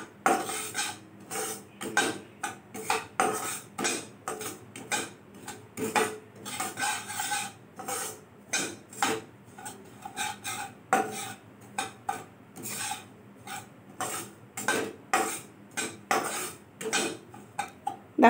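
Semolina toasting lightly in a dry pan is stirred in a steady rhythm, with repeated metallic scrapes and clinks of a spoon against the pan, close up and without speech.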